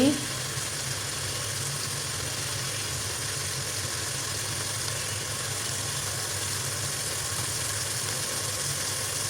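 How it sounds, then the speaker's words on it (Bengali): Meat fries in oil with Kashmiri red chilli powder for aloo gosht, producing a steady, even sizzling hiss that holds unbroken from start to finish. "লাল মরিচের গুঁড়া অর্থাৎ কাশ্মীরি মরিচের গুঁড়া দিয়ে এখন এগুলো সহ আমি তেলের মধ্যে ভেজে নিচ্ছি"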